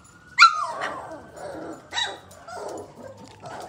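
Purebred Irish setter barking close by, a sharp bark followed by a few softer barks, whines and low growly vocalizations.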